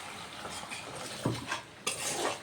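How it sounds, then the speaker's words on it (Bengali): A little water goes into a yogurt fish curry masala for pabda fish, bringing a soft sizzle and hiss with a couple of sharp bursts, plus light clinks of utensil against pan, close and fairly quiet. "এবার দিয়ে দিচ্ছি একটু জল।"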